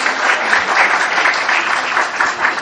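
An audience claps steadily for course trainees at a graduation ceremony in Quetta, a dense, even round of applause from a crowd throughout.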